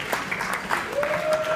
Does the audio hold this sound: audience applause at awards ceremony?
yes